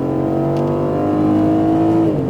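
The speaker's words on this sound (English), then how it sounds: "Squeeze on that throttle from curb to curb" An Aston Martin Vantage F1 Edition engine accelerating on a racetrack, a loud close steady drone rising slightly in pitch, then easing off near the end, with no talk.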